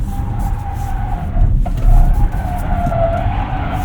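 A 2024 Ford Mustang Mach-E Rally, an all-wheel-drive electric car, drifts with tires skidding and squealing in a loud sustained whine, close and continuous, with a surge of scrubbing rumble midway and no engine roar.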